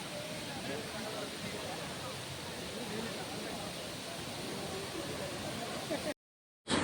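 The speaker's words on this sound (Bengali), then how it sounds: "ঝর্ণার প্রবল আওয়াজ যেমন আমাদেরকে শান্তি দিচ্ছিল" Debjharan waterfall near Sambalpur roars as a steady, loud broadband rush that fills the whole clip without pause before cutting out abruptly near the end.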